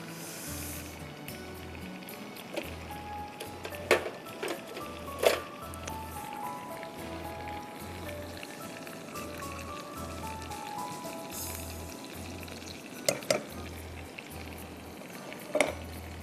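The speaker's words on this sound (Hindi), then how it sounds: "इसमें हम डालेंगे कुटावा लहसुन मक्खन में 1 टेबल स्पून" Crushed garlic sizzles faintly in butter in a pan, a soft steady frying crackle with occasional sharp clinks, under a quiet pulsing music bed.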